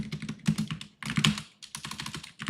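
Rapid typing on a computer keyboard, close and clear, bursts of clattering keystrokes separated by short pauses.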